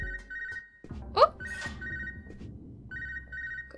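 Telephone in the video game Unmetal rings with a repeated electronic tone, bursts separated by a pause, heard over low game background sound and a brief sharp effect.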